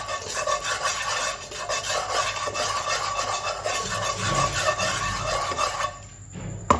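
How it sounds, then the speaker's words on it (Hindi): Salt being stirred into hot ghee in a metal pan on a stovetop, heard as a steady, close rasping scrape that continues for several seconds and then stops abruptly near the end. "नमक को जो है ना अच्छी तरह से हमें मिक्स कर लेना है।"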